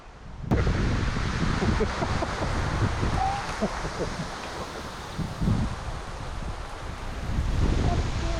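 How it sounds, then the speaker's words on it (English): Heavy gusting wind roars across an outdoor hunting spot during an archery trip with rain on the way, a steady loud broadband rush with rustling, swelling near the start and again toward the end. "And now we got heavy wind, just came in."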